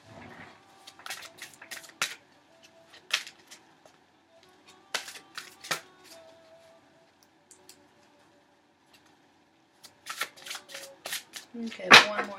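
Tarot cards being shuffled and handled in soft, intermittent bursts of riffling and sliding, close and quiet, with a short louder flurry near the end.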